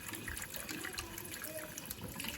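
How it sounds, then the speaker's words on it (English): Tap water runs steadily into a kitchen sink, a continuous close splashing hiss with no pauses and no voices over it. "Now you can see this is the sink, kitchen sink. Water is on"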